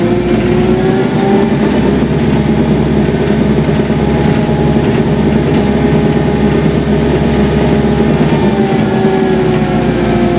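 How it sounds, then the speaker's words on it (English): Loud, steady tractor engine drone with a constant mechanical roar and rattling of a bush hog mower, running without pause throughout. "now I'm going to bush hog this all in reverse"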